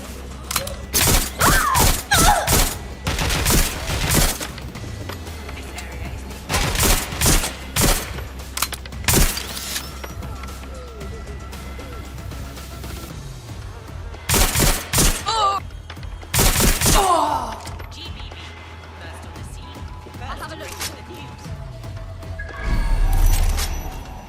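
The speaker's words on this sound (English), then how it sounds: "I'm being shot at!" Rapid bursts of gunfire from the video game Watch Dogs Legion crackle in repeated volleys with mechanical clatter, loud and close throughout, with a few spoken words between the shots.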